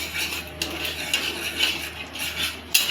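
A metal spoon scrapes and clinks against a pan while food is stirred and fried, giving irregular clatters over a soft background hiss, with no voices.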